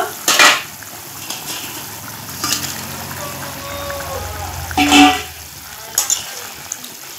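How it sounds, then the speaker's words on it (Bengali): Fried snakehead fish dropped into a boiling Bengali fish broth, with loud clanks of utensils against the pot, bubbling and splashing, and a few quieter knocks between. "ঝোলটা ফুটে গেছে, এখন আমি ভেজে রাখা মাছগুলো দিয়ে দিব"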